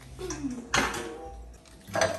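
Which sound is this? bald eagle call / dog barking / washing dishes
washing dishes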